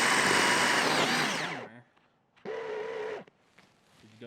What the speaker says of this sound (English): I see a drill bit. Can you? Yeah. Oh. Is it turning?